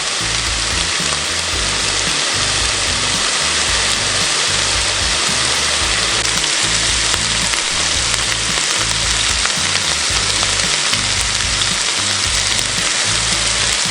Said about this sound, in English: we got this sizzling away nicely, and we got a little bit of color on the bacon